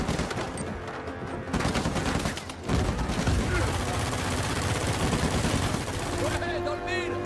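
Sustained rapid gunfire from a shooter video game, Uncharted 4, dense bursts of automatic fire filling the scene at close range, with brief pauses and a short lull near the end.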